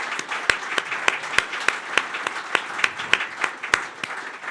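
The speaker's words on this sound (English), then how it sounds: "They deserve a round of applause for it." An audience at an event on Israeli innovation and investment bursts into a full round of applause, a thick wash of clapping studded with sharp, prominent individual claps that stays steady throughout.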